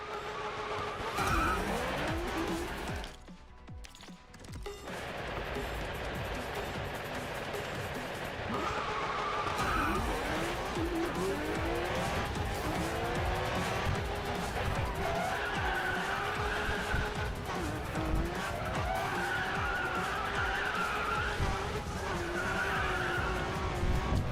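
Honda NSX-R drifting in the mobile racing game Racing Master, tires squealing in long sustained skids over a loud roaring engine that rises and falls through gear changes, continuous and close throughout with no talk.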